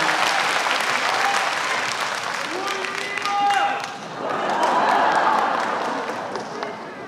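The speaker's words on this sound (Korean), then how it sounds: "여러분 큰 박수로 환영해 주시기 바랍니다" Steady crowd applause at an outdoor hope concert in Ulsan, greeting a singer, loud and continuous, with amplified speech and brief musical tones rising over the clapping midway.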